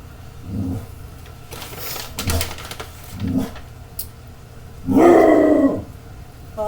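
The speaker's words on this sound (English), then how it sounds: "sorry, that's my dog." A dog barks and growls at a delivery man outside a home kitchen, in four separate bursts. The last outburst is the loudest and longest, and no one speaks over it.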